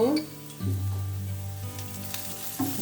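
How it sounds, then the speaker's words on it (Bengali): Onion frying in oil in a pan gives a steady, close sizzle with a low hum beneath it. No one speaks. "একটু ভেজে নেব এই যে পেঁয়াজটা ভাজা হয়ে গেছে"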